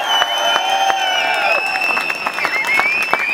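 A protest crowd at a rally supporting Novartis workers in Nyon claps steadily, with cheers, whoops and piercing whistles sounding over the sustained applause.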